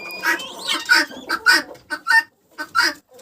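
A female guinea fowl on a Ukrainian village farm gives a series of harsh, rasping calls in short bursts, close and fairly loud with brief pauses between.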